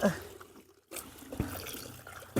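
Tender baby mangoes being washed in water for pickling, with soft trickling and splashing that rises and falls, including a brief pause and a few sharper splashes.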